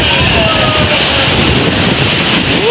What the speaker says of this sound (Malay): Angin kuat, angin kuat.